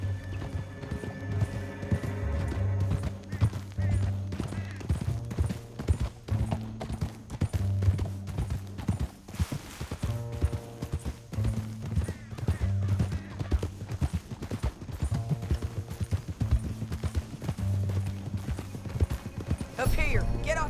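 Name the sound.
horse hoofbeats in the video game Red Dead Redemption 2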